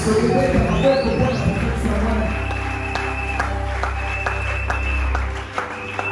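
A church congregation applauds and cheers for a visiting pastor, a dense, sustained wash of clapping with crowd noise and a steady low hum underneath, loud throughout before thinning slightly at the very end.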